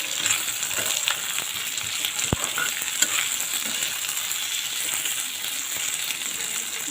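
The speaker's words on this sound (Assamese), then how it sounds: "আলুখিনি অকণমান ফ্ৰাই কৰি ল'ম।" Boiled potatoes fry in a pan for papad curry, giving a steady, close sizzle with occasional stirring clinks and scrapes, and no voices.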